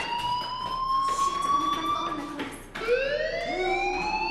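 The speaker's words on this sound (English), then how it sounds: "Hey, do you hear that fire alarm?" A school fire alarm rings in the video game Life is Strange, a loud electronic wailing tone that sweeps upward repeatedly, breaks off briefly and then starts again with a fresh rising sweep.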